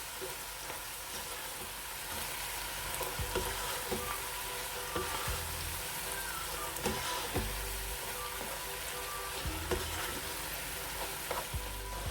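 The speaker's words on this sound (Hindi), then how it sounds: "हल्दी पाउडर जाएगा 1/2 टेबल स्पून। मिक्स करेंगे इन चीज़ों को।" A spoon stirs and scrapes through sizzling masala with turmeric powder for a potato and egg curry, with steady frying hiss and repeated scraping strokes close by, and no talk.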